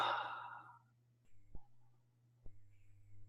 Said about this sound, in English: Maybe as we take 3 full deep breaths together.